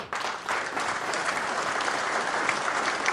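An audience at a community Christmas celebration claps warmly for a media partner, with dense, sustained applause that starts abruptly and stays loud and even throughout.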